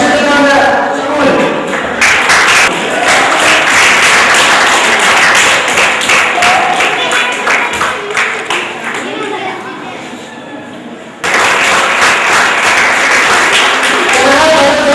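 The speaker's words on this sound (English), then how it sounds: "Everybody, a round of applause for them." Audience applause at a school prize-giving ceremony in southern India, loud sustained clapping from a crowd with chatter mixed in, briefly dipping before a fresh burst near the end.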